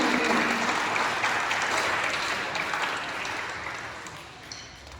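Congregation at a Pentecost Mass applauds the musicians, a dense, steady wash of clapping that starts full and slowly thins out over about five seconds, with no voices over it.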